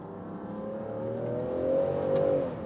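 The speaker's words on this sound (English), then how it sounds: "So let's really test out how fast this petrol engine is." The petrol engine of a Land Rover Defender 90 P400 accelerates hard, heard from inside the car with the revs rising in a smooth climb that gets louder toward the end.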